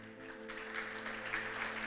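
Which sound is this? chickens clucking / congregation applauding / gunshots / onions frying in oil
congregation applauding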